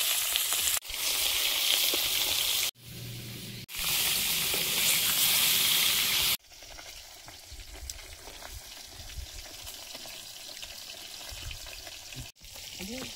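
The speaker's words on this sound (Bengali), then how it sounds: "মাছগুলো ভেজে নেব" Tengra fish fry in hot oil in a home kitchen, a steady sizzle in loud bursts broken by short gaps, then a quieter spell of clinks and stirring.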